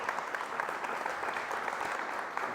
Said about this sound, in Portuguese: Vocês podem aplaudir Jesus,